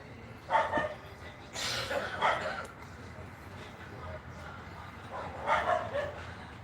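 Dogs bark in short bursts somewhere off in the neighborhood, a few separate volleys at moderate distance with quiet background noise in between.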